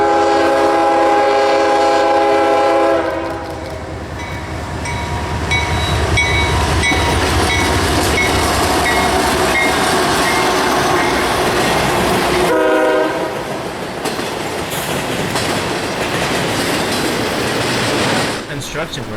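A CSX intermodal freight train passes in central Florida, its horn sounding loud and sustained in long blasts over the steady rumble and clatter of rail cars, continuing close by throughout.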